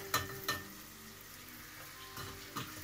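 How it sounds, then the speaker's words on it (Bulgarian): Butter melts in a pan with a faint, steady sizzle, broken by a few soft clicks of a utensil against the pan. "Пускате маслото вътре и чакате да се разтопи."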